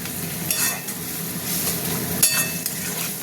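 Spices fry in a pan for a fish-head and cabbage dish, with salt and sugar added, giving a constant close sizzle broken by scraping stirs and occasional sharp clanks of the spoon against the pan, without talk.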